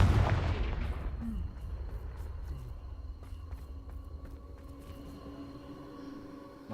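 Confringo spell cast in the Hogwarts Legacy video game, a loud fiery blast at the start that decays into a long rumbling tail with faint scattered crackles.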